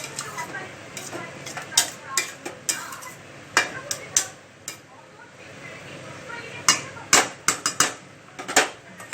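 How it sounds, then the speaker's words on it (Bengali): A spoon scrapes and clinks against a pan while bottle gourd curry with katla fish head is stirred, giving irregular close knocks and taps over a soft simmer, with a voice speaking now and then. "ঢাকনা তুলে আমরা আবারও কিছুক্ষণ নাড়াচাড়া করব।"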